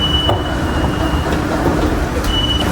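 A metro train in Rome rumbles steadily and loudly up close, with low rolling noise, faint squeals and a brief high tone, continuous throughout without voices.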